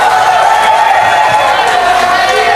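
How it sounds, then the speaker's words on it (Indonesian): Audience at an election debate for Kuningan regency head candidates applauds and cheers in a dense, steady crowd wash, with voices mixed into the noise. "Kita berikan tepuk tangan yang meriah."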